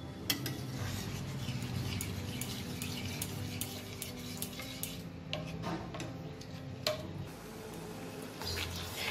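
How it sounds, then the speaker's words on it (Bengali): Coconut milk from a whole coconut being stirred into spice paste for a Bengali prawn malai curry, with a spoon clinking and scraping steadily against the pan over a low simmering hiss. "মশলার সাথে এটাকে ভালো করে মিশিয়ে দেব"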